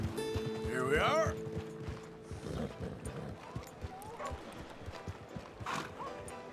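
Horse hooves clip-clop in the video game Red Dead Redemption 2 at night in town, a moderate rhythmic plodding under game speech and ambient clatter, with a brief horse whinny near the start.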